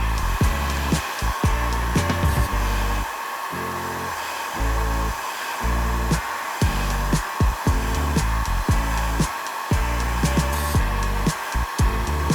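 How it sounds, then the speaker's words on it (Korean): A hair dryer on a low-speed hot setting blows steadily with a hissing rush of air, broken by choppy low rumbles as the airflow buffets and shifts while bangs are styled. "드라이기 뜨거운 약한 바람으로 하시는 게 좋아요."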